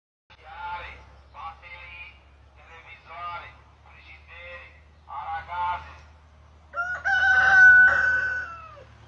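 Rooster crowing outdoors while someone talks over it, several harmonic calls rising and falling across the clip, the loudest and longest crow near the end, with steady low background noise as clouds gather before a heavy rain.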